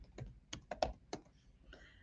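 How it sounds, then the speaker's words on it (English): Several sharp keystrokes on a computer keyboard, with one tab key press among them, come in an irregular cluster, close and clear against a quiet room with no voices. "I press the tab key on my keyboard"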